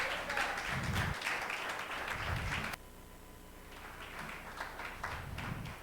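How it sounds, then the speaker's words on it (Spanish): A church congregation claps rhythmically, fairly quiet and distant, with low thumps recurring in time; the clapping drops briefly midway before building again. "Dale un aplauso al Señor, gloria a Dios."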